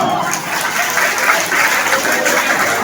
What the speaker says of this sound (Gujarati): તાળી વગાડો.